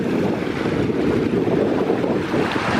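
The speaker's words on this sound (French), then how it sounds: "Voilà, des belles petites cascades." Rushing water from small mountain waterfalls near Pic Blanc above Alpe-d'Huez, a steady broadband roar with some wind noise on the microphone, continuous and fairly close throughout.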